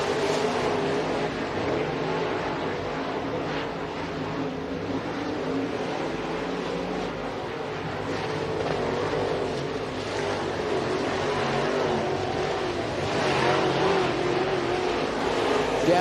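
Dirt track race cars roaring around Eagle Raceway during a Memorial Madness event, a continuous loud engine drone with passing surges as the field circles, while an announcer talks over it.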